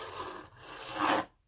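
A paper card is scraped with a tool in two raspy strokes, a short one then a longer louder one, close and fairly quiet, with no talk.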